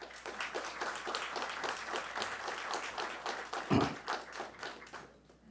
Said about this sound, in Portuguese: Uma salva de palmas ao deputado.